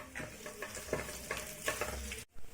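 Crushed ginger, garlic and curry leaves sautéing for Kashmiri chicken fry: close, bright frying sizzle with a few spatula scrapes and stirs, ending in a brief cut to near silence, with no talking.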